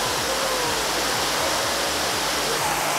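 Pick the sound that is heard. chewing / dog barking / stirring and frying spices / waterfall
waterfall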